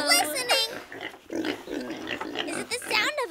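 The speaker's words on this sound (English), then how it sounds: "A pig! A pig! You're right!" A pig oinking in a children's sound-guessing game, several short grunting snorts mixed in with lively voices talking and exclaiming throughout.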